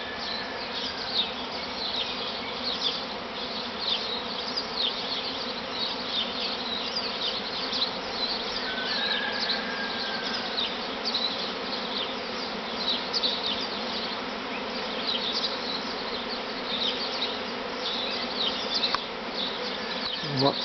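A large honey bee swarm fills the air outdoors near a veranda, a dense, continuous buzz of countless wings holding steady throughout.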